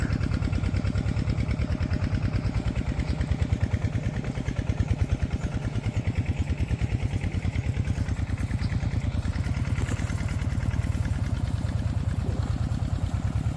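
Water pump engine on a hybrid yellow corn farm runs steadily nearby, a rapid, even chugging pulse that holds at constant loudness throughout with no voices.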